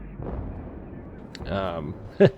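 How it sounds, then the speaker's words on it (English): Two torpedoes strike a Montana battleship in World of Warships, heard as low booming rumbles under a talking voice, ending with a short, loud burst. "2 torpedo hits on that Montana."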